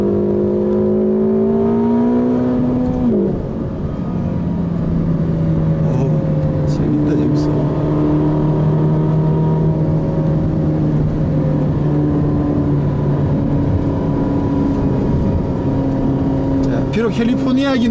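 A turbocharged Ferrari California T engine revs hard and climbs steadily in pitch, then drops and rises again, loud and close, with a constant mechanical roar throughout.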